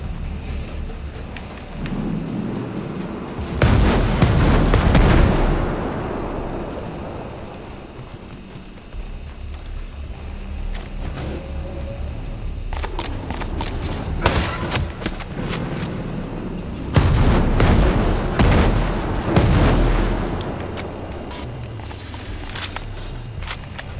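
Rocket explosions from the Ghost Recon Breakpoint video game, fired at a heavily armored Behemoth boss: two big booming blasts a few seconds apart, then a cluster of further rumbling impacts near the end over a continuous low background roar.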